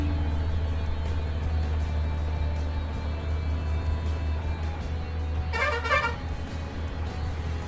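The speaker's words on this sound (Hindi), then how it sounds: "ओ भाई साउंड क्या है इस बाइक बस का भाई, बहुत ही जबरदस्त हॉर्न है।" A loud, blaring bus horn sounds briefly in a rapid warbling toot over steady road traffic and engine rumble, on a road in Anantnag, Kashmir.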